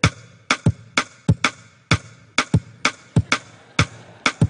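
Two percussive rhythms played together, three beats against four, form a 4/3 polyrhythm: sharp, dry, clicky hits in an interlocking uneven pattern, close and fairly loud with no talk.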